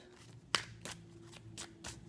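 A deck of tarot cards is shuffled by hand, giving several soft papery bursts with one sharper snap near the start, quiet and close with no voices.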